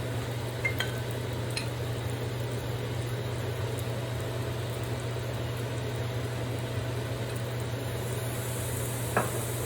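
Glutinous rice being stir-fried with soy sauce in a wok, a steady sizzle and scraping under a low constant hum, with a few sharper clinks of the spatula against the metal.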